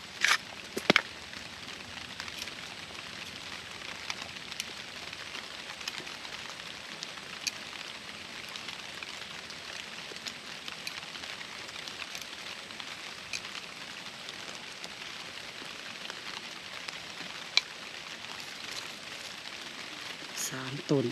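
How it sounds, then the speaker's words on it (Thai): Rain falling steadily in a forest, a continuous fine patter on leaves and surfaces with occasional sharper drops and crackles, fairly close and even in level. "ฝนก็เริ่มตกลงมาวันนี้นะ"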